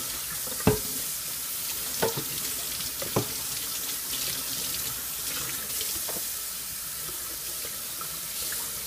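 Tap water runs steadily while Hydor 450 aquarium filter parts are rinsed in a sink, a soft continuous hiss broken by a few sharp knocks and clatters of plastic parts near the start.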